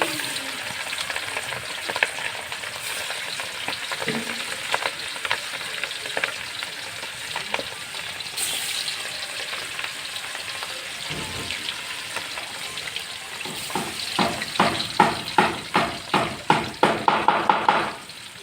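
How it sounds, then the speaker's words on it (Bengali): Silver carp pieces fry in hot oil with a continuous crackling sizzle, then grow louder near the end with a run of sharp rhythmic clatters from handling the fish in the pan. "মাছটা ভেজে নিই"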